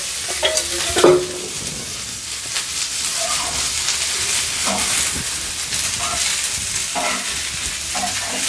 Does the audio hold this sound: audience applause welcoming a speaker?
no